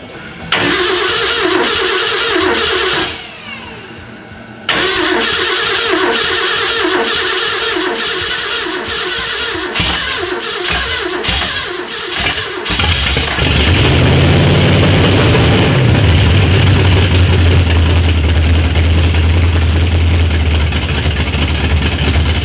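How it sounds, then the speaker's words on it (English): A 1967 Ford engine with open headers cranks and catches, then settles into a loud, rough, continuous idle with no talking. "firing up my 67 Ford"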